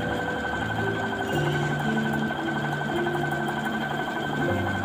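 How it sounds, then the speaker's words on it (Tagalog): Brother sewing machine running steadily, a close continuous whirring hum with shifting motor tones and a rapid needle patter, without talk. "Ganyan po yan mga madam, pag-operate sa ating sewing machine."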